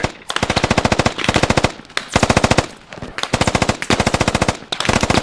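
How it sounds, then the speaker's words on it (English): Long, loud bursts of machine gun fire during a military drill, rapid evenly spaced shots in about five sustained strings separated by brief pauses, close and dominant with no talking. "Perfect MG fire, you got him pinned."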